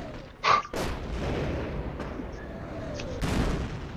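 Sniper and machine gun fire in the Company of Heroes video game, World War II combat; a couple of sharp, close cracks over a continuous rumble of distant battle and gunfire.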